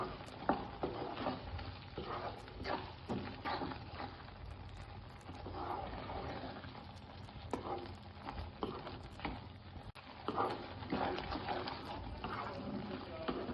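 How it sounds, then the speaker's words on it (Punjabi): Fresh milk cream being stirred into a pea and mushroom gravy in a pan, giving soft, repeated scraping and wet mixing sounds with a light sizzle throughout, close by and fairly quiet. "ਤਾਜ਼ੇ ਦੁੱਧ ਦੀ ਮਲਾਈ ਪਾ ਕੇ ਇਹਨੂੰ ਮਿਕਸ ਕਰ ਦਾਂਗੇ"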